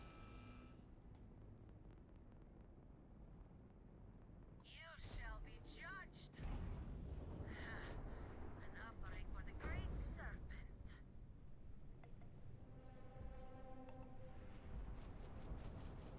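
Spaceship engines powering up in a space combat video game, a low rumbling surge that swells midway into a louder roaring drive with crackling bursts and whooshes, continuing as a steady hum at the close.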